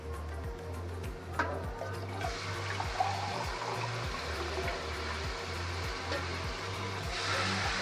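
Steaming broth water is poured into a pot of rice for Arabian mandi, making a steady rushing, gurgling stream that lasts several seconds over a low rhythmic mechanical hum, with no talking.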